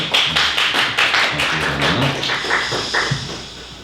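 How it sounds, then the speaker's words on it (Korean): Worship-team members at a Korean church young-adults service get a short round of clapping from the congregation, a dense patter of hand claps over a few seconds with no one talking. "박수 한번 할까요?"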